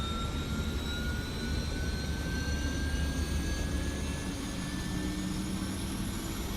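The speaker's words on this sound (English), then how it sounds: "Let's go outside the plane and listen to see if the APU starts" An aircraft auxiliary power unit runs in a flight simulator game, heard from outside the plane as a steady loud turbine roar with a high whine that slowly rises in pitch.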